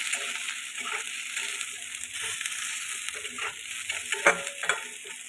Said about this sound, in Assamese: এইখিনিও ৰঙচুৱা হোৱালৈকে মই ফ্ৰাই কৰিম।